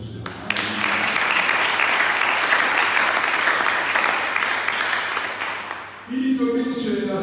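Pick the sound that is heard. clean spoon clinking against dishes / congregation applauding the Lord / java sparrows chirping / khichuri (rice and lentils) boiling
congregation applauding the Lord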